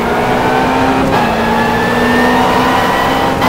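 A race car engine in the GTR2 FIA GT racing video game drones loud and steady with a rising whining pitch, briefly dipping on a gear change, with no voices.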